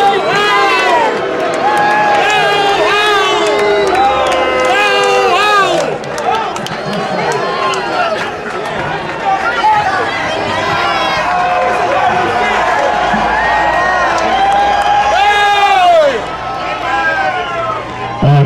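Large outdoor Tea Party rally crowd in Greenville reacting to a speaker, a dense continuous roar of voices, shouting and jeering that holds steady throughout at close range.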